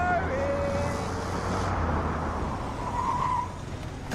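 A truck nearly striking a man walking away in the film Halloween Ends, a loud continuous engine roar with tire noise and a brief horn-like tone, with voices over it.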